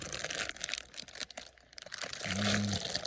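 Foil lining inside a beehive crinkling and rustling as it is handled, brief close crackles over a few seconds with a low hum near the end.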